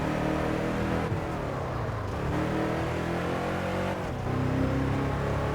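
A car in the Test Drive Unlimited 2 racing game skids with locked-up wheels, its loud continuous engine roar blending with sustained tyre noise throughout, with no talk.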